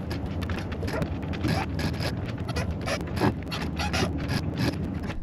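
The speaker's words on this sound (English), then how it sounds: "some trouble with this clicking noise that's coming from the furling drum" Repeated clicking from a roller furling drum on a sailboat's forestay, a steady run of mechanical ticks over constant wind and water noise, with no talking.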